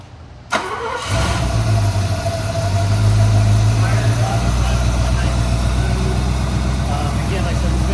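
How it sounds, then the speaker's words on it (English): A 1971 Mercedes-Benz 280SE 3.5 Coupe cranks briefly, catches and settles into a steady idle that runs on close by. "I'm gonna go ahead and start it up and just kind of watch the engine."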